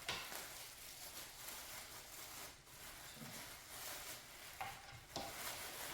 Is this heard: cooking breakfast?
yes